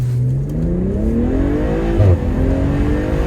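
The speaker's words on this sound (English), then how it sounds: "launch control active, build boost, and send it" A BMW M Performance car launches hard using launch control, its engine note climbing in rising sweeps through gear changes, loud and close with a brief throaty burst midway.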